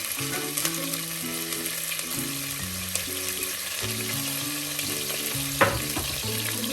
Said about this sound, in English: I'm just gonna put that all in here and fry